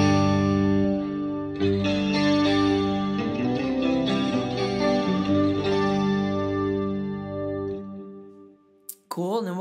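A synth preset run through a delay and then a chorus: one dense, sustained, shimmering tone with wavering, slightly gritty layers, loud and continuous for about eight seconds, then cut off by a brief glitchy blip.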